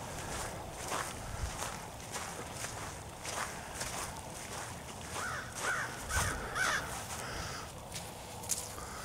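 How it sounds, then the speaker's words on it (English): A crow caws from a tree in a residential neighborhood between Chippewa Falls and Eau Claire, a few harsh calls standing out midway through over steady outdoor noise and footsteps, with no talking. "There's a crow welcoming us to the neighborhood, Kyle."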